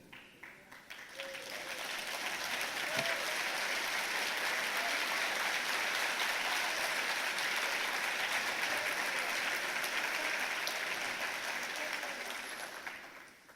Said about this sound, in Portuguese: Essas palmas não glorificam ninguém.